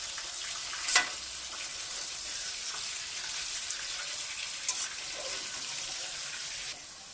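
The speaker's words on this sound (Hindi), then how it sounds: "चिकन का कलर अच्छी तरह से जब ब्राउन हो जाएगा इसमें, तो जब तक हम इसको अच्छी तरह से फ्राई करेंगे।" Chicken fries in a pan with a steady, hissing sizzle that holds evenly throughout, and a brief clatter is heard once or twice. The sound is close, with no voices.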